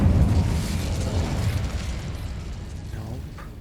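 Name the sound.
Incendio fire spell cast in video game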